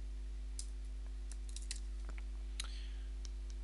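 Sparse clicks of typing on a computer keyboard, a few light keystrokes scattered irregularly over a steady electrical hum, faint and close, with no talking.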